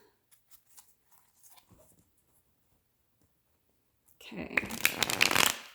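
Tarot cards handled and shuffled, a dense close burst of riffling and flicking in the final seconds after a stretch of soft talk and near-silence.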